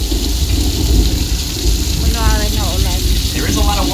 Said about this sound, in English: Sorry, the rain's not turning off.